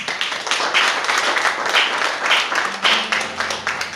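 A church congregation applauds the Lord with sustained, dense clapping from many hands, steady and fairly loud throughout, with a low hum entering near the end.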